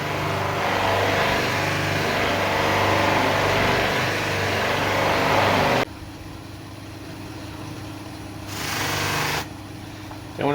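A wood lathe turns at 1400 RPM with a loud, steady motor whir that stops abruptly partway through, then a brief quieter burst of running noise follows.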